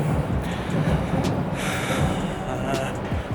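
Continuous rumble and hiss inside a Japanese Super Express train heading to Kashiwa, steady and fairly loud, with a few faint higher clicks and squeaks over the running noise.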